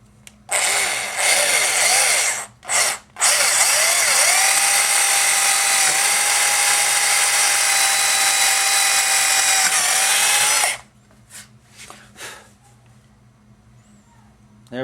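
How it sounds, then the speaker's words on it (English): A hand drill bores through a sealed balsa wood core in two short bursts and then one long steady run of about eight seconds, loud and close with a high whine that dips slightly under load, followed by quiet handling noises. "So now we can take a drill and we can use that air bubble to line up the hole."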